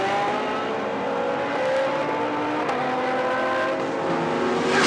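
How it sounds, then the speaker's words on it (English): An M-Sport works Bentley GT3 race car accelerates uphill at Spa-Francorchamps during the 24-hour race, its engine note climbing loud and close through the gears for several seconds, with no talk. "The quicker of the two M Sport Works Bentleys, pounding its way uphill"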